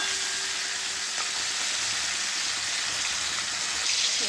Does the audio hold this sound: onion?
yes